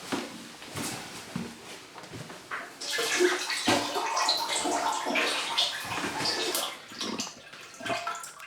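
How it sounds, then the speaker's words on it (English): Water drained from a removed household radiator is poured into a toilet bowl, a steady, close splashing pour with small knocks and drips, and no talking. "quickly take the radiator off and empty the contents of it down the toilet"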